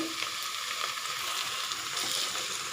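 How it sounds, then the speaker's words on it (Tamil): Ginger-garlic paste and onions frying in a pan for chicken biryani, a steady close sizzle with faint crackles that holds evenly throughout, no voices. "இஞ்சி பூண்டு விழுந்து"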